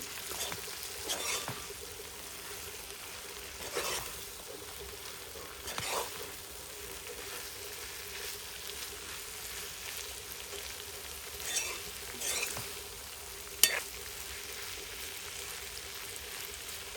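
Jackfruit curry is stirred in a pan after the fried jackfruit goes in, a steady close sizzle and frying hiss broken by occasional scraping stirs and light clinks, with no talking.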